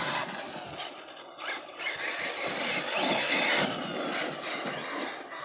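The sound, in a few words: Losi LST 3XLE RC truck running in low gear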